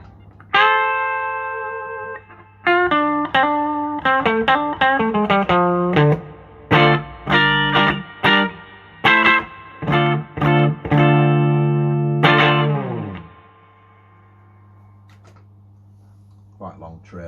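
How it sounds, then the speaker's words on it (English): An electric guitar runs through a hall reverb setting on an effects pedal, powered from an MXR DC Brick, playing a run of loud, separate chords and notes with long ringing trails that slowly fade out to near silence. "Quite long trails actually"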